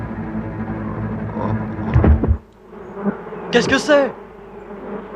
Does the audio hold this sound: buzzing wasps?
yes